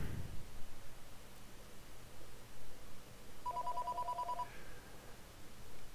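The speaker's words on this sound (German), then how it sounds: "Was ist das denn jetzt? Der Telefon." A telephone rings once in a short electronic trill, fairly faint beneath a steady background of noise, about midway through.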